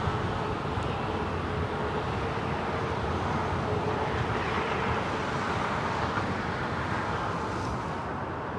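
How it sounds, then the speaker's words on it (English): A jet airliner takes off from the south side of LAX in Los Angeles, a steady loud broadband roar that holds throughout with no break. "Next takeoff here on the south side"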